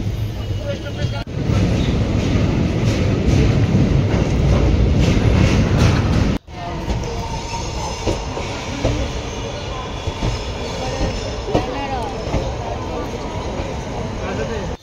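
A passenger train rumbles loud and steady at a railway station at night, with wheel and carriage noise filling the first half, then dropping abruptly to a quieter, busier rumble with voices talking over it.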